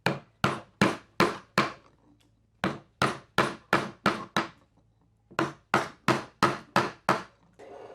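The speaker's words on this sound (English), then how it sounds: "And my mallet is a lignum vitae mallet, which means it's heavy." Heavy lignum vitae wooden mallet blows strike a carving tool in bursts of four or five sharp, evenly spaced knocks, with short pauses between groups; close and loud.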